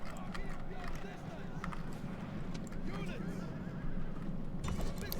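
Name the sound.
horses of horse archers in a video game battle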